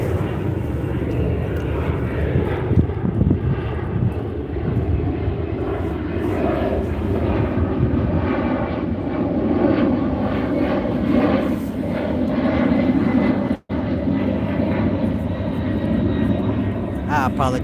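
A propeller airplane drones overhead, a loud sustained engine roar that swells and fades beneath someone talking, with one abrupt dropout near the end.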